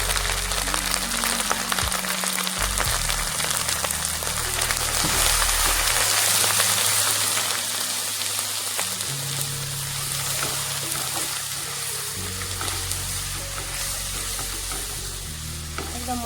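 Spice masala with turmeric sizzles and crackles steadily in hot oil while being stirred for Kolkata-style mutton kosha, with scraping spatula strokes and a continuous close frying hiss, no talking.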